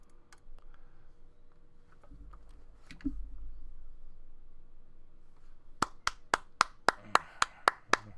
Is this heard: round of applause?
yes